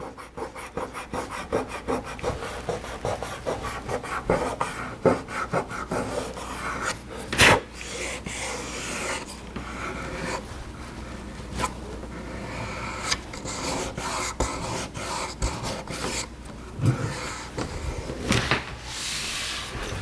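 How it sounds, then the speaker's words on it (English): Glue being rubbed off an internal part of a 2018 iMac Pro during a memory upgrade, a steady close scraping and rasping friction with a few sharper knocks, continuing without talk. "And we got a bunch of glue on here. We can rub it."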